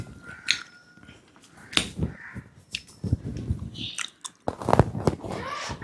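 Someone bites into and chews a raw green mango up close at home, giving a series of sharp, irregular crunches and wet chewing noises with brief pauses between bites.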